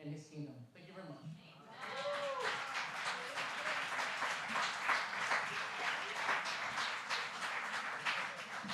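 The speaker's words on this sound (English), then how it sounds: "Let's give him another round of applause." Audience applause following a sermon on the Book of Esther: after a brief moment of speech, sustained clapping from a crowd fills the space, steady and dense, continuing to the end.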